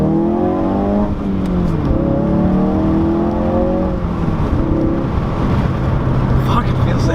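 A 2017 Ford Focus RS pulling hard under acceleration, its engine note climbing steadily and loud from inside the cabin, with a voice speaking over it.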